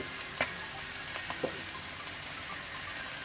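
Nasi goreng kampung fried rice being stirred in a pan, a faint steady sizzle with a few soft spatula scrapes and taps.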